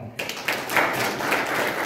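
An audience at a training event claps together in a steady burst of applause, the sound close and continuous with a few sharper claps standing out, over a short stretch.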